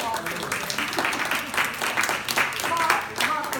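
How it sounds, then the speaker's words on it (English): Members at a fall 2018 membership meeting give a round of applause, a dense, steady clapping from a modest indoor crowd that lasts throughout. "So if we wouldn't mind having a round of applause."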